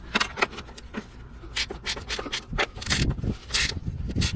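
Close, uneven rasping and ratcheting strokes from a 10 mm wrench snugging a motor mount bolt on a Nissan Altima, coming in short bursts with brief gaps between them.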